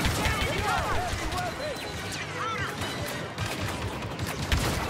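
Dense, continuous blaster gunfire from Star Wars Battlefront 2 combat, with rapid overlapping laser shots and swooping whines mixed into busy battle noise that never lets up.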